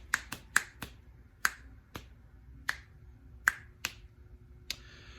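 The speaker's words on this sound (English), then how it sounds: "I like snapping my fingers" Finger snaps ring out one at a time, sharp and close, about ten crisp clicks in an uneven rhythm against a quiet room with a faint low hum.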